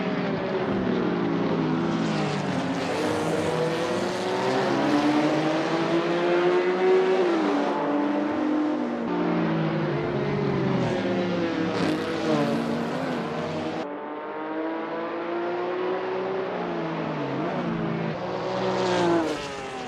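A 1960s race car in Assetto Corsa laps the Montjuic circuit, its engine note climbing and falling through gear changes as it brakes, rotates and accelerates out onto the straight, loud and close throughout.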